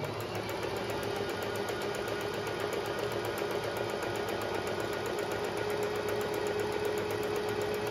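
A Smart by Pfaff 100S sewing machine runs continuously as it stitches forward and in reverse, giving a steady, close mechanical whir with a fast, even rattle for eight seconds and no voices.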